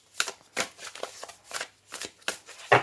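Oracle cards being shuffled by hand for a tarot-style reading, a run of seven or eight brisk riffling bursts at an even rhythm, close and clear with no talk.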